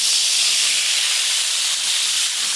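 Water poured into a hot pan of mango pieces, giving a loud, steady steam hiss that fills the whole moment with no talk.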